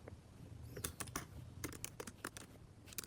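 A computer keyboard clatters with quick, irregular keystrokes ending on a Shift and Enter press, close and clear with nothing else around them.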